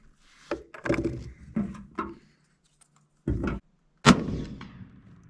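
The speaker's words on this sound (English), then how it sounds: "now we're shooting the 175 grain ELD-X and the 7 PRC with H1000" A 7 PRC rifle fires a single sharp, loud shot near the end, preceded by a few thumping bursts of other sound, with quiet gaps between.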